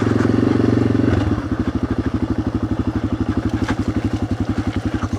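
A Yamaha XT600 dual-sport motorcycle riding over muddy ground, its single-cylinder engine loud and close, shifting after a second from a smooth drone to a rapid, even chugging thump with faint clatter.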